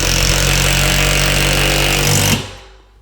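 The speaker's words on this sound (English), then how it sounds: "Another lag bolt. We're going to go with the impact again." An impact driver drives a lag bolt through a TV wall bracket, a loud continuous rattling hammer that runs steadily for over two seconds, then cuts off abruptly and fades out.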